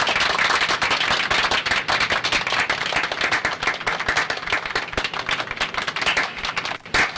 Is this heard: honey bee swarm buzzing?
no